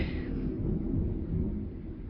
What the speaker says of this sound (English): the thunder is very, very loud